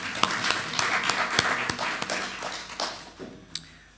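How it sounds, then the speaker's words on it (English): A small congregation at a funeral service claps in scattered, uneven bursts, a few distinct sharp claps standing out from softer patter before it thins and dies away. "Are we allowed to clap?"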